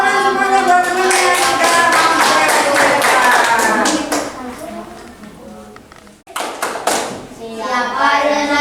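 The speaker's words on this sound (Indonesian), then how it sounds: "Tepuk tangan semuanya buat teman-teman." Sixth-grade pupils at an elementary school in Bandung clap for their classmates in a classroom, a loud rhythmic burst of claps mixed with children's voices. The clapping fades, pauses briefly, then resumes with more chatter.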